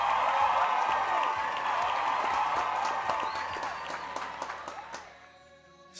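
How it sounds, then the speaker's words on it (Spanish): A church congregation applauds a guest, clapping and a few cheers and whoops at moderate volume that thin out and fade near the end. "Un gran aplauso,"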